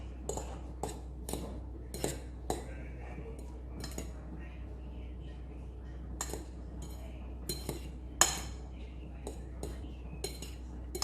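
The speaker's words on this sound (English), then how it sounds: "Just give it a good mix." Couscous salad being stirred in a bowl, with a spoon clinking and tapping against the dish in irregular, fairly faint strikes over a low steady hum.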